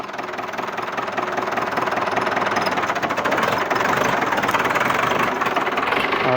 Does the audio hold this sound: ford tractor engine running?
yes